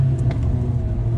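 A Mercedes-AMG A45 climbs a hill road, its engine a steady low rumble heard from inside the car, constant and fairly loud with no talking.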